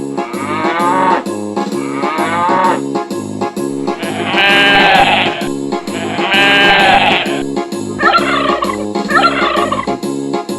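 Farmyard animal calls, a turkey gobbling, a sheep bleating and a cow mooing, come in short repeated bursts over the steady backing music of an Afrikaans children's singalong about farm animals.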